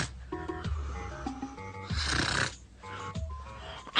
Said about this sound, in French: Je sens que je serai capable de l'écouter ronfler toute la nuit